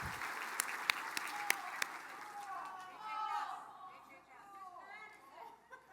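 An audience applauds elected and appointed officials of the Mille Lacs Band of Ojibwe at a State of the Band event, with a few sharp claps standing out from a soft, distant wash of clapping and crowd chatter.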